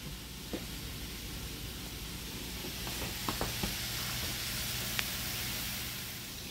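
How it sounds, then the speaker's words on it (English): Chicken and zucchini simmer in a pan for a stir fry, giving a soft, steady sizzling hiss with a few faint clicks and taps throughout. "just let it simmer for a little bit"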